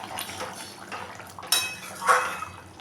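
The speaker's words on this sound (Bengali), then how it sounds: "এখন আমি ঢাকাটা সরিয়ে দেব। ঢাকাটা আমি সরিয়ে দিলাম" A lid comes off a cooking pot of simmering paneer rezala, with a sharp metallic clink, then another clatter of metal a moment later over a quiet bubbling background.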